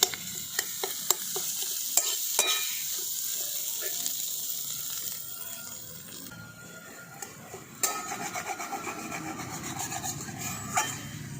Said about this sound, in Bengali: সমস্ত কিছু একসঙ্গে দিয়ে আমি খুব ভালো করে আলুর সঙ্গে মিশিয়ে দিই।